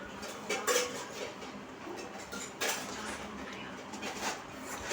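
Egg gravy is stirred in a pan, with soft scraping and occasional light clinks of a spoon against metal over a quiet background.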